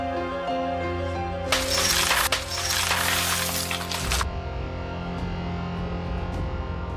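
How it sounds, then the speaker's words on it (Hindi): Glass smashed to break through a door in a drama scene, a loud sustained crashing shatter of about three seconds over a steady music bed, with falling shards tapering off at the end. "क्रिश मैं मजाक नहीं कर रहा, मैं कांच तोड़ के अंदर आऊंगा।"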